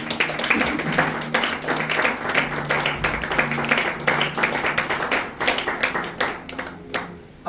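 A church congregation claps together in acclaim of the Lord, steady brisk hand claps in a dense crowd, close and loud for several seconds before thinning out at the end.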